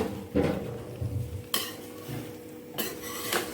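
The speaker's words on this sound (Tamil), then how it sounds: "இதை நல்லா கிளறி விடலாம்" Fish pickle being stirred with oil in a home kitchen pan, a utensil scraping and clattering in a few distinct bursts against the metal, close and fairly quiet, with no talk.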